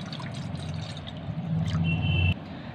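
A glass of water is poured into a cooking pot while making Bihari sattu drink, a short continuous pouring splash that swells toward the end and stops abruptly.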